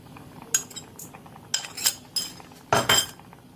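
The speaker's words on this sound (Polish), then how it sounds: "Mieszamy." Raspberries and potato starch stirred in a pot with a utensil: several sharp metallic clinks and scrapes against the pot rim in irregular bursts, close and fairly loud, with no talk.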